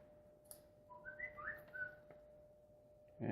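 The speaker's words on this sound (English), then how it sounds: "And my tablet is whistling at me like" A tablet gives a short series of faint, rising whistled tones, a small melodic chirp over a quiet background with a steady faint hum, followed by a brief clunk at the end.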